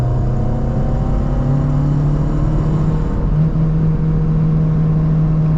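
A steady Renault Megane Coupe engine hums and whirs at moderate speed while driving, with a faint rise in pitch as it accelerates.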